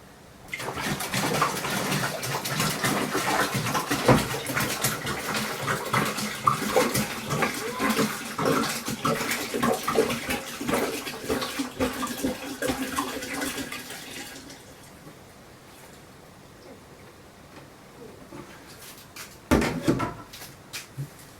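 Water pours steadily into a fermenter to top up gluten-free beer wort, a loud continuous splashing rush for about fourteen seconds before it stops, followed by quiet and a brief late clatter.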